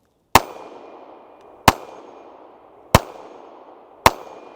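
Four sharp pistol shots from a Ruger 57 firing American Eagle full metal jacket rounds at a steel plate outdoors, evenly spaced about a second apart, each a loud crack followed by a brief ringing decay.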